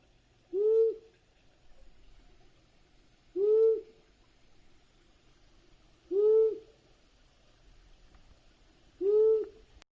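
An owl gives four evenly spaced single hoots about three seconds apart, each a short low tone, clear against a quiet background.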